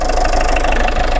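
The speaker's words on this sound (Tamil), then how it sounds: "அந்த வண்டி தான் இப்போ ஸ்டார்ட் பண்ணியிருக்குது" A Tata Indica car engine runs steadily just after starting, a loud, close idle with a fast regular mechanical clatter and no voices.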